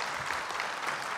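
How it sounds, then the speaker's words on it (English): An audience at a library technology conference gives a round of applause: a soft, continuous patter of clapping from a roomful of people, fairly distant and quiet. "How about a round of applause for Christina?"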